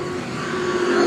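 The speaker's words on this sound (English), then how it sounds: "now here comes Robertson up the inside of Horseman into turn number 3" AMCA race cars battling into turn three at Carina Speedway, a short burst of steady, loud engine drone rising slightly in level.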